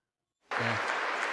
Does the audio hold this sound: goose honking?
no